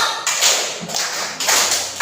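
Standing schoolchildren clap in unison in a classroom, a steady series of five loud group claps, each a dense burst of slaps close together, with almost no voices.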